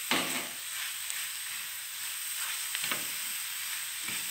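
Grated carrots sizzling in a pan for carrot farofa, a steady close hiss and crackle with a few brief stirring scrapes, no talking.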